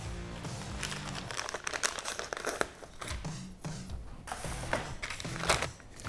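Plastic packaging for LED bag blade lights being torn and opened by hand, with crinkling, crackling and rustling in irregular bursts, close and fairly loud, with no voices.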